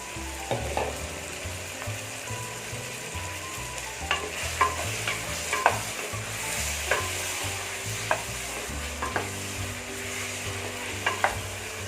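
Vegetables such as eggplant, plantain and potato sauté in hot oil for a Tamil fish curry, a steady close sizzle broken by repeated scraping stirs and clinks of a spoon against the pan.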